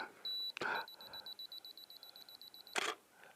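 A camera's self-timer beeping: a short high tone, then a rapid regular train of bleeps running about two seconds, bracketed by two sharp shutter-like clicks, quiet and close.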